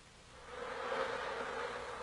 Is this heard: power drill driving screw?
no